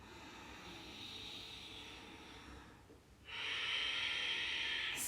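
Forceful pumping breaths during a tantra yoga practice, a rushing, breathy hiss that dips briefly and then returns louder and steadier, close to the microphone with no talking.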